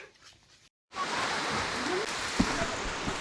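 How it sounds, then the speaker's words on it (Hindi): Rain falling at home in a Pahadi hill village, a broad steady hiss that starts abruptly after a brief silence and continues loud and even, with a couple of faint sharp clicks mixed in. "जंगल में तो आई नहीं बारिश, अब आ रही है घर आके।"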